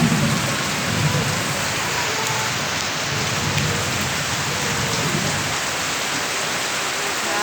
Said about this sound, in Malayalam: അടിപൊളി മഴയാണേ